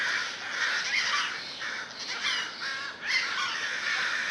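Outdoors, crows, jays and ravens caw in alarm, with repeated harsh calls overlapping at a moderate distance over steady background hiss.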